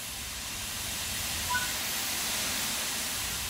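A steam locomotive in Train Sim World 3's Spirit of Steam gives a loud, steady, close hiss of steam that runs evenly throughout, with no talking.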